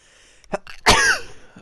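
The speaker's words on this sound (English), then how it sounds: "Oh, I'm gonna sneeze." A single sharp sneeze bursts out loud and close after a couple of short breathy intakes, with a faint throaty sound trailing at the end.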